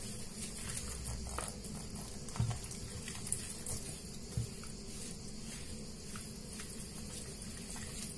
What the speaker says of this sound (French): je vais commencer à mettre l'eau. Tout en mélangeant.